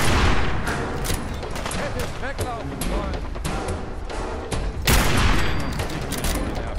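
A new weapon fires repeatedly in Fallout 4, a rapid series of loud, booming gunshots layered into a dense barrage, with someone talking over the gunfire.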